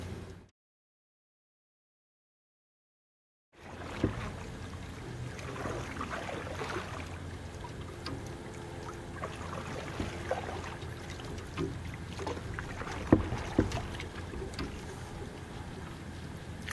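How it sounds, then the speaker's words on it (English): A stand-up paddleboard paddle dips and pulls water beside a Yamaha WaveRunner in shallow water, faint splashing strokes and gurgles over light wind after a few seconds of silence. "I'm going to try out the stand-up paddleboard paddle, the SUP paddle on my Yamaha Wave Runner."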